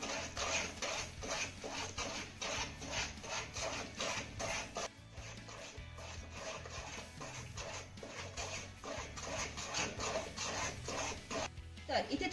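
Faint rhythmic scraping and clinking from a spoon stirring a guava and sugar mixture in a pan over a medium flame, repeating steadily throughout with no talking.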